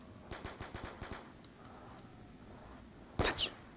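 Gunfire in the video game Call of Duty Black Ops 2 Zombies: a quick string of about six evenly spaced shots, a short lull, then a louder double blast near the end, with no talking over it.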